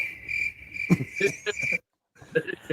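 Crickets chirp in a steady high trill woven into a hip hop music beat, with rhythmic drum hits underneath and a brief silent gap before the beat resumes.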